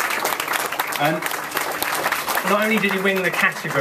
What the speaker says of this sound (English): So a nice big round of applause.